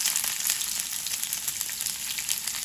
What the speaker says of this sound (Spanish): aquí vamos a freír lo que son los ingredientes para la salsa